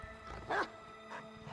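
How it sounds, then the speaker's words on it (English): Dog barking somewhere in Call of Duty Vanguard, in 1943 Stalingrad: one short, fairly distant yelp-like bark stands out over low game ambience, with a fainter second call shortly after. "There's a dog somewhere."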